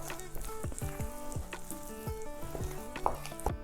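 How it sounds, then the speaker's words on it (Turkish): Swedish meatball gravy sauce sizzling in a pan while a spoon stirs it, producing continuous close frying hiss and rhythmic scraping strokes, no voices. "Çok azıcık bir şey daha karıştırabilirim bu pişerken."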